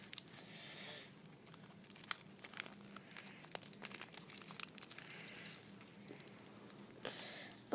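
A sheet of paper being folded in half several times crinkles and rustles up close, sharp crackling bursts coming in uneven clusters with brief quiet gaps, no voices.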